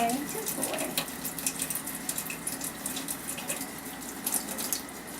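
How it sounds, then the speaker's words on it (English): Steady warm tap water runs and splashes continuously at close range over a kitten being bathed, with faint voices and small movements underneath. "So I'm just going to run him under the warm water"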